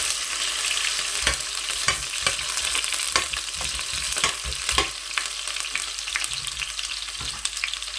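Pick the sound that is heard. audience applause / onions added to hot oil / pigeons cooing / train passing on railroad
onions added to hot oil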